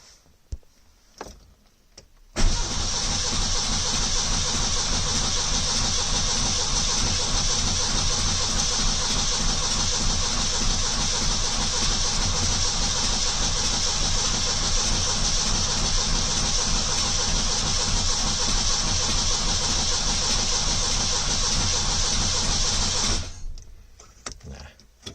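A rebuilt engine in a 1970 Lancia Flavia Milleotto LX catches and runs, a steady, loud, continuous drone holding for about twenty seconds after a brief start before cutting off abruptly.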